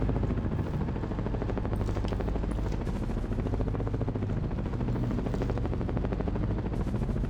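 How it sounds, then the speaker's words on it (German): A helicopter in Ghost Recon Advanced Warfighter thuds with a steady rotor chop throughout, mixed with bursts of game gunfire, moderately loud and continuous. "Das könnte doch noch ein Helikopter gewesen sein."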